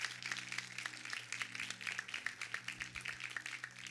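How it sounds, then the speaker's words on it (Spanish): A church congregation at a Spanish-language service gives steady, dense applause over a low hum, sounding moderately distant and continuing without pause. "Den un fuerte aplauso al Dios que yo conozco."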